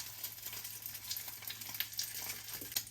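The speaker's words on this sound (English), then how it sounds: "All things are good when they sizzle." French toast rolls frying in a pan, a steady close crackling sizzle with fine popping spatters throughout.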